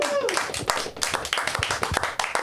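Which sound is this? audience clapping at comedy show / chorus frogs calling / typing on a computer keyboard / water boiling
audience clapping at comedy show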